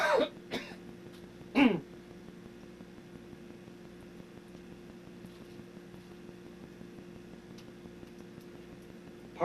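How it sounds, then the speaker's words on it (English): A man with the flu coughs and clears his throat in a few sharp, close bursts near the start, then only quiet room hum and a faint steady tone remain, with no talking. "I might have to cough once in a while."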